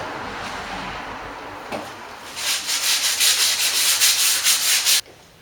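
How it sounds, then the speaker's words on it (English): Edges of a cut acrylic panel hand sanded with 120 grit sandpaper: a soft scrape, then a run of quick, rhythmic back-and-forth rasping strokes that stop abruptly, close and without talk. "just give it a gentle sand with about a 120 grit sandpaper, just on the edges that were cut"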